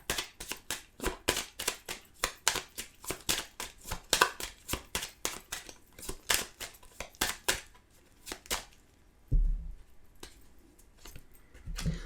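Tarot cards shuffled by hand in a quiet room, a rapid run of crisp riffling clicks that slows into scattered taps, ending in a couple of soft thuds.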